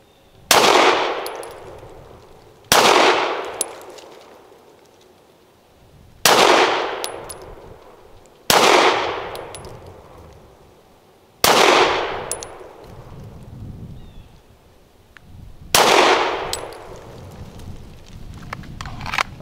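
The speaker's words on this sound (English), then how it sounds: "7 yard accuracy test here, just slow fire, see how it does." Six slow, evenly spaced pistol shots from an M&P Shield Plus fired at 7 yards on an outdoor range, each a loud sharp crack with a ringing decay, no talk between them.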